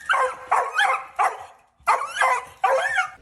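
Small dog barking in a house basement, five or six sharp yappy barks in quick bursts with short pauses, loud and close, with no talking.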